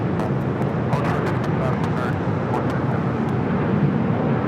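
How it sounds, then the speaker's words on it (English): A Sichuan Airlines Airbus A350-900 in panda livery arrives at LAX from Chengdu. A steady, moderately loud jet rumble runs throughout, with brief crackling bursts and a voice speaking over it. "Sichuan Airlines in the Panda Route livery, flight 3837, coming in from Chengdu"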